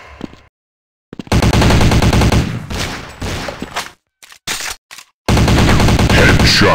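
Loud, close bursts of rapid automatic gunfire from the mobile shooter Critical Strike GO, with sustained rattling volleys broken by short silences and sharp single shots.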